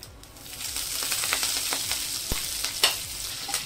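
Green chillies and curry leaves fry in hot oil for a Kerala-style ginger curry, giving a dense, close sizzle with scattered pops and a few stirring scrapes throughout. No one speaks.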